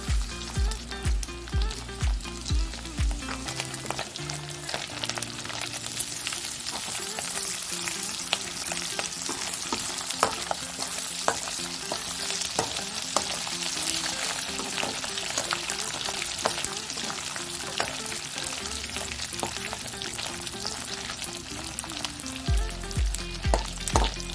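Dry anchovies sizzle steadily in a hot pan for a spicy thokku, a dense continuous frying crackle with occasional stirring scrapes and a low tonal hum underneath, close and fairly loud throughout with no talking.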